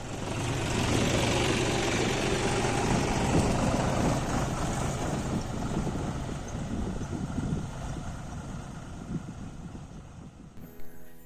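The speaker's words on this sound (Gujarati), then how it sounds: "તો સૌ પ્રથમ ટ્રેક્ટરથી ઊંડી ખેડ કરવામાં આવે છે." A steady tractor engine drone, deep ploughing a field, with low rumbling and knocking, loud and continuous, easing slightly toward the end with some wind noise.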